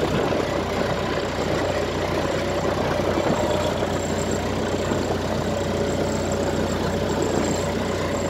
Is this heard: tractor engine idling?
yes